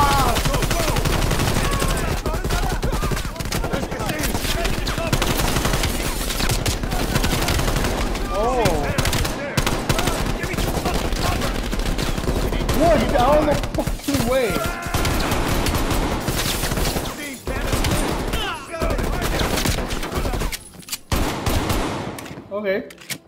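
Krig rifle gunfire in Call of Duty Black Ops Cold War: steady, dense bursts of automatic fire run almost nonstop, mixed with other battle sounds, and a voice talks at times over the shooting.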